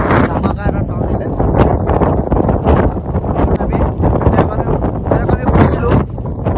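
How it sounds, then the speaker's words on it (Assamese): Strong wind blowing on a mountain near Kaho village on the India–China border road, roaring loud and continuous with gusty buffeting against the microphone, and a voice mixed in underneath. "বহুত বেছি ধামাকা বতাহ মাৰি আছে"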